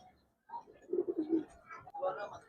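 A Giribaz pigeon coos inside a loft, several soft, low throaty coos rising and falling in short bursts, close by and fairly quiet.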